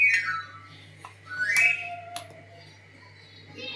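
A pressure cooker whistle, cooking pongal on a stove, rises and sweeps upward in a few shrill bursts over a steady low hum, moderately loud and close, with no talking.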